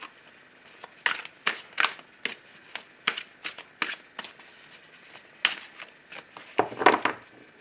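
Tarot cards being shuffled by hand in a quiet room, a string of crisp riffling and flicking bursts in an uneven rhythm, close and fairly soft, with no talk.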